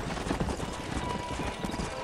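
Horses in the Red Dead Redemption video game clip-clopping steadily at close range, with a brief whinny and game ambience underneath.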